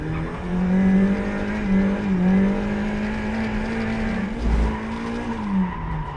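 A Mazda MX-5 Miata drifting at full throttle with repeated clutch kicks, its engine droning loud and close at a steady pitch, with tire squeal and revs dipping and rising through the slide.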